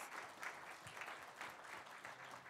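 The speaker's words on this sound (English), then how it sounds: "I'd like to give Balwinder a big round of applause." A round of applause from a seminar audience for a speaker at an enterprise technology talk, fairly quiet and steady with a few louder individual claps standing out.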